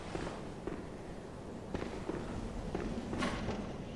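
Enemy machine gun fire in the video game Bloodborne: scattered, distant-sounding sharp cracks and pops spread irregularly over a steady, fairly quiet background of game noise.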